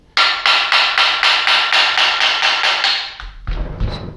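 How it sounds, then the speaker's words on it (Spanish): A small hammer taps repeatedly on a water pump housing to break its seal open, with about a dozen quick, even, ringing metallic strikes followed by a duller thud and some handling. "vamos a usar un martillito y le vamos a pegar unos golpecitos"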